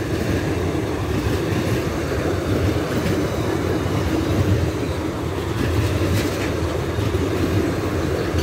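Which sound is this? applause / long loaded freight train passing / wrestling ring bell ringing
long loaded freight train passing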